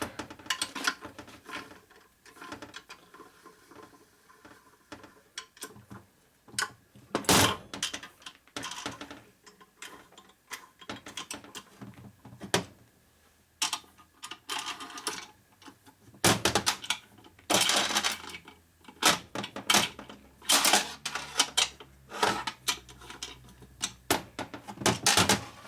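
Spanner working bolts on a 1972 Harley-Davidson XL Sportster 1000cc Ironhead engine during a rebuild, giving close, repeated metallic clicks, ratcheting taps and clanks in irregular bursts, with no talking.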